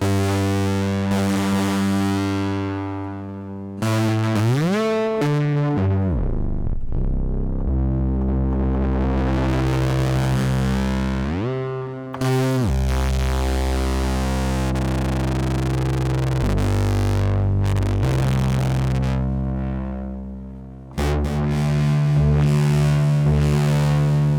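A buzzy, distorted synth lead from a MiniFreak or Hydrasynth plays sustained notes with gliding pitch, each phrase trailing off in repeating delay echoes; loud and continuous, no voices.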